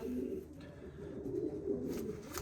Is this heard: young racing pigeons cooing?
yes